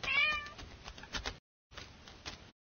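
A cat meows several times in close succession, with the loudest, most tonal call at the start, then a short gap followed by more mewing. The calls are close and clear, and no one speaks.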